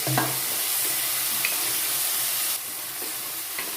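Onion and tomato frying together in a pan, a continuous bright sizzle with occasional soft stirring scrapes, close and steady, briefly quieter near the end.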